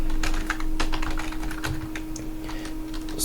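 Quick, steady typing on a computer keyboard while writing code for a database query, close and clear with rapid irregular keystrokes throughout and no talking.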